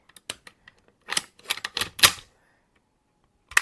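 On an E&C 912 M110 SR25-style airsoft rifle, the stiff magazine catch is pressed with small plastic-and-metal clicks, followed by a rapid cluster of rattling clacks as the magazine releases, then a final click after a short silence.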